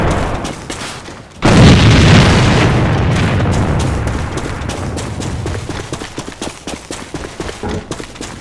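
A grenade detonates in the online shooter A.V.A. Global with a sudden heavy boom, then a long rumbling tail under scattered gunfire and small bursts that keep crackling to the end.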